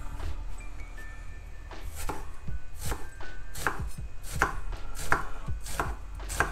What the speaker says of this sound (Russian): Тем временем займемся луком. Лук нам понадобится на поджарку.